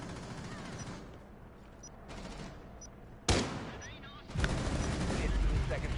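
Gunfire from a wallbang attempt through a gate in Rainbow Six Siege, with a sharp, loud shot bursting in mid-clip and a denser barrage of shots following, over a steady game soundscape with faint commentary.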